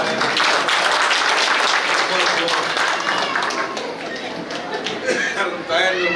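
Crowd at a political rally clapping and applauding in a dense, steady wash that stays loud across the whole stretch, with a slight dip partway and then swelling again.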